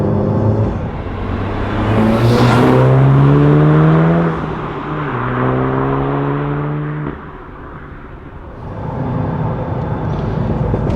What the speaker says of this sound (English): Oh, a little chirp from the turbo there as well.